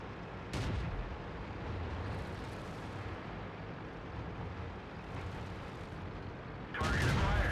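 A tank cannon firing in World of Tanks, the AMX ELC bis on the Erlenberg map, with booming blasts near the start and end over a steady rumble of engine and battle noise, with a voice talking.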